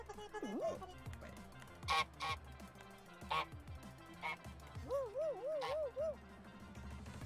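Goose honk emote from the Fall Guys video game sounds off in a run of sharp honks, one near-doubled burst and a quick warbling series, over game music with someone talking throughout.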